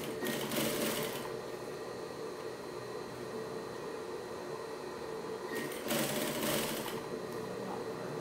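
A sewing machine stitches a necessaire with two dividers, humming continuously and evenly throughout, with slightly louder surges near the start and again toward the end.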